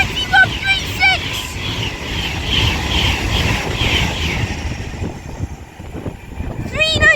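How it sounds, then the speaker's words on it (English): An Avanti West Coast Class 390 Pendolino train rushes through Winsford station on the West Coast Main Line, making a loud, continuous rumbling roar with wind buffeting. High whistling tones fade in and out as it passes. "Now passing through is going to be an Avanti West Coast Class 390 Pendolino with the 1808 service."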